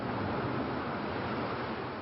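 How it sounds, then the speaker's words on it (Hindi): Rough Arabian Sea waves rise off the Gujarat coast ahead of Cyclone Nilofar, a steady broadband roar of surf and wind that stays even and fairly loud throughout. "गुजरात के समंदर में उठ रही ये लहरें नीलोफर तूफान के आने का संकेत है।"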